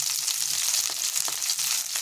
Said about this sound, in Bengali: বেগুন বেশি সবজিটা বেশি ভাজবো না, একটু নাড়াচাড়া করবো